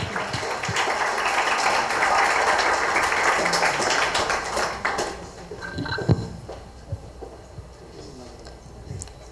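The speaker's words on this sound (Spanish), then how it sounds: "un aplauso, por favor." Applause from an audience at an education forum, moderate clapping that builds over the first few seconds, then thins into scattered claps and a few knocks as the room quiets.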